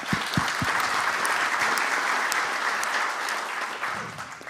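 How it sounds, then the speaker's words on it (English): Applause from the audience at the Kyiv Security Forum, a thick, steady wash of clapping hands from a large crowd, with a few sharper claps early on, fading gradually near the end. "This applause are for you."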